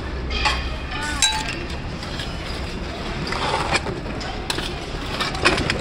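Shards of broken glass clinking and rattling inside a discarded thermos flask found at an outdoor flea market, a few light chinks scattered over steady background noise.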